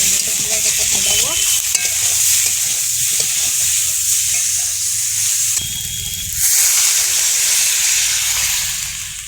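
Chopped garlic, already turning reddish-brown, fries in hot oil in a pan. It makes a loud, steady sizzle and hiss, with brief stirring clatters and a short burst of louder spitting partway through.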